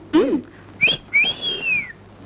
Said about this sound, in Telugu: మీకు విజిల్ వేయడం తెలుసా